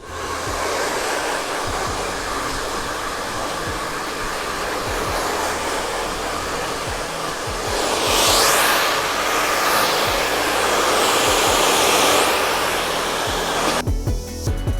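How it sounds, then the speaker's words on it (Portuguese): A handheld hair dryer blows steadily and loudly at close range while styling a freshly cut chanel bob on thick hair, its airflow roar shifting slightly in pitch as it moves, with no talking. "Eu vou só arrumar com o secador e aí vamos ver esse cabelinho pronto."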